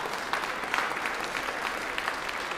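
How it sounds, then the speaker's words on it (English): Audience applause for a president at a Christmas carol night, loud continuous clapping with steady density and no talk over it. "deserves an extra round of applause"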